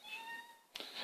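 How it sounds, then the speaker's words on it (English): A cat meows in a bedroom, a single drawn-out, faint meow followed by a brief sharp rustle or chirp at the end, with no talk. "what you just heard is a cat who's not normally in the bedroom with me, and Mr. Biggie does not like it."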